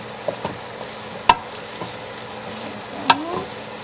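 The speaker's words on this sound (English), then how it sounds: "You're just mixing it so that some of that oil and the onions and the garlic mix into the rice." Shrimp fried rice with oil, onions and garlic being stirred in a hot pan, a soft continuous sizzle punctuated by two sharp utensil clinks against the pan.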